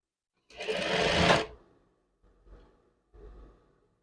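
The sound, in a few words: sewing machine stitching a seam on a chef jacket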